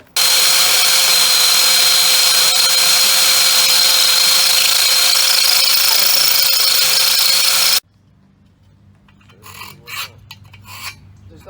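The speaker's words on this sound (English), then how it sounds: "Brand new drill." A brand new power drill runs at full speed with a loud, steady whir for about seven seconds, then cuts off abruptly, leaving only faint, scattered background noise.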